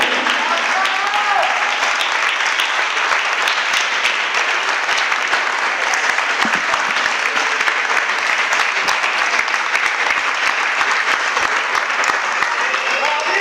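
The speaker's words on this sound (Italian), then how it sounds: "Ancora un forte applauso per lo Sporting Borgorico." Sustained applause from a crowd at an award ceremony for a futsal team runs continuously and evenly loud throughout, with faint voices mixed into the clapping.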